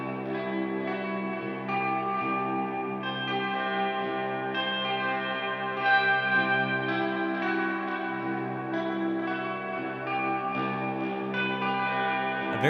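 Shimmering, jangly guitar chords from a band's song ring out with heavy reverb, notes blending into a bright, bell-like wash that sustains throughout.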